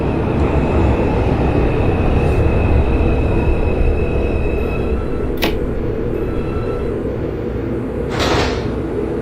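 An NYC Subway R142 train on the 2 line, simulated in OpenBVE, rumbles steadily with a loud low-frequency roar and a whining motor tone, punctuated by a couple of sharp clanks near the end.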